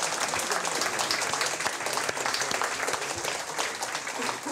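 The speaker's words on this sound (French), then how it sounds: "On les applaudit bien fort." An audience at a French dictation contest awards event applauds, a dense, even wash of many hands clapping at once, held at moderate level without a break for several seconds.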